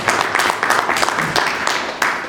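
Clapping from an audience comes in uneven bursts and swells, fairly loud and close, mixed with a few voices.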